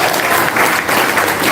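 Dense, loud applause fills a crowded hall at a political talk on democracy, steady clapping from many hands with no voices over it.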